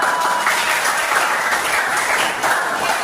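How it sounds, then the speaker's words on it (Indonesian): Steady, dense applause fills a classroom as students clap together for a few seconds, a continuous bright patter at even loudness with no break. "kasih tepuk tangan"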